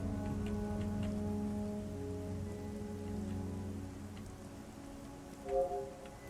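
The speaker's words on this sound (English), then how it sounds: "There is rain on this." Steady rain falling in Garry's Mod on the GM_Construct_Rainy map, a quiet continuous patter under a low sustained hum with a brief swell near the end, no talk.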